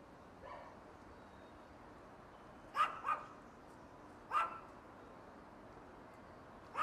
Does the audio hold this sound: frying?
no